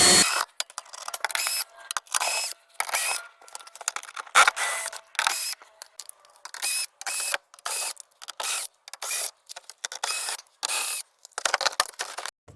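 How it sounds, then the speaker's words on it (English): A power tool spins out the small 8mm screws holding the front panel of a 2011 Mercedes GLK X204, with repeated short whirring bursts separated by brief pauses, close and loud. "you need to remove the 14 little tiny 8mm screws that hold this front panel in place"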